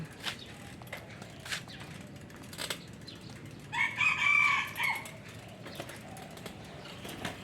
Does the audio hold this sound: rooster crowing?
yes